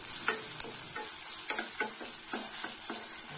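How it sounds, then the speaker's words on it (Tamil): Onions sautéing in a pan for a minced mutton, potato and pea gravy: a bright, constant sizzle with a steady rhythm of soft spatula strokes about every third of a second, close up and without speech. "வெங்காயத்தை ஓரளவுக்கு நல்லா பிங்கிஷாக வதக்கிக்கலாம்."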